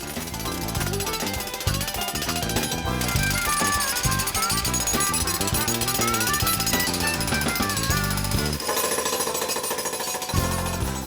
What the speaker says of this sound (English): Step one is to jackhammer a narrow trench around the perimeter of the basement